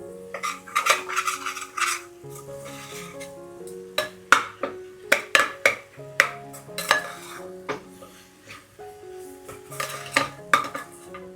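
A metal spoon scrapes and clinks against a pan while a mutton keema mixture is stirred, with irregular ringing knocks and scraping strokes close by and no talk.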